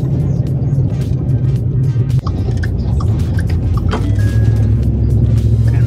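Steady low engine rumble from inside a moving RaptorCore SVC mid-travel Raptor pickup truck, loud and constant, with faint thumps and a brief clunk partway through.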